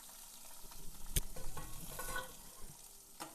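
Chopped medium-size onion drops into hot tempering oil with curry leaves and green chillies and is stirred, giving a close, steady sizzle broken by scraping stirs and one sharp clack of the spoon on the pan.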